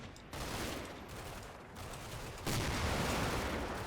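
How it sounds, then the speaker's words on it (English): A recoilless rifle firing in a combat video game, heard as dense, roaring blasts and rumbling gunfire that surge in distinct steps over a continuous battle din, with no voices. "that sounded like the recoilless rifle going off"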